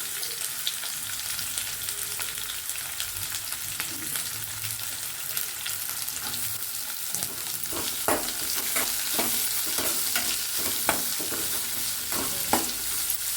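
Onions frying in a pan for capsicum rice, an even hiss of sizzling oil with a burst of clicking spoon-and-pan stirring strokes toward the end, no voices.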